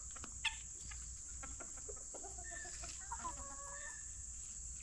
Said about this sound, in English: Bunch of guineas up in the woods.